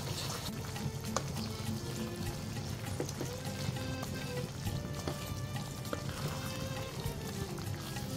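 Marinated beef dendeng, soaked in sweet soy sauce, sizzles and bubbles in a pan, a steady close crackle with scattered pops and no voices.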